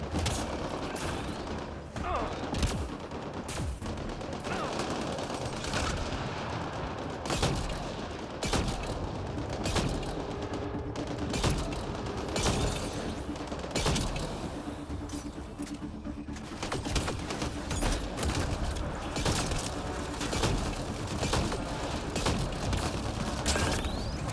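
Rapid bursts of automatic gunfire in Mass Effect Andromeda, dense and loud throughout a long firefight, with sporadic voices beneath the shooting.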